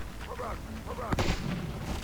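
Cannons firing in the strategy game The Scouring, one sharp booming shot standing out amid a busy battle murmur, with a voice talking over it.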